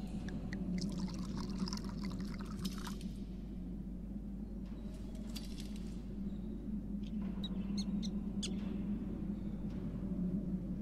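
Water poured and trickling from a flask in the video game Syberia 2, a thin steady dribble over a constant low hum, with faint bright splashes coming and going and no speech.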